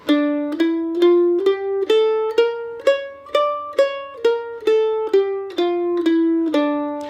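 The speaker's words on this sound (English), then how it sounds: "So here we have the D harmonic minor scale." Plucked mandolin notes climb step by step in an ascending D harmonic minor scale, each note ringing bright and decaying before the next, fourteen notes in steady rhythm.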